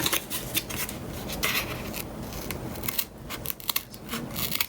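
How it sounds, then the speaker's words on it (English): Scissors crunch through corrugated Amazon box cardboard to cut out a wheel, a run of close, loud, uneven snips and scrapes with short pauses between cuts. "try to keep the cardboard straight while you're cutting it"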